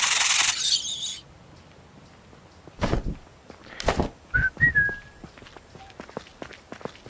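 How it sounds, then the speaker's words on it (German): In the video game Tomb Explorer VR, a few short tonal whistle notes come partway through, mixed in among scattered footsteps and thuds. "Na, lieber nicht pfeifen."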